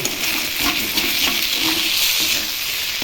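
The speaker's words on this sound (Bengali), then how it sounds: "এবার একটু ভেজে নেব" Boiled rice-flour dough pieces made with leftover rice frying in a pan, giving a steady bright sizzle with light stirring scrapes and no talk.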